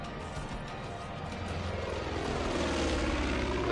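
Propeller airplane flying overhead in the video game Far Cry 5, a droning engine roar that swells steadily louder as it approaches, heard alone without talk.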